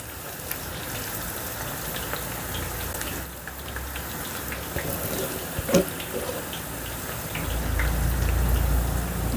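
Onion pakodi batter frying in hot oil in a street-style home kitchen, a steady dense crackling sizzle that runs throughout and swells louder near the end, with no talk over it.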